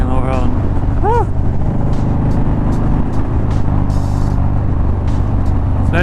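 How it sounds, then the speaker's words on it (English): A motorcycle tuned with a Dynojet Power Vision rides through traffic, its loud, continuous exhaust roar echoing off nearby cars, with wind rush and a couple of brief rising tones from passing traffic. "you can hear the exhaust echo off the cars behind you"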